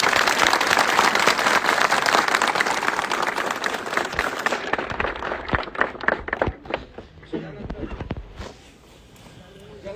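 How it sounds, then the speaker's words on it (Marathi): A crowd claps loudly at a bullock cart race tribute gathering, the dense applause thinning into scattered claps and fading to quiet, with voices mixed in. "टाळ्या वाजत मन्याचं स्वागत करा"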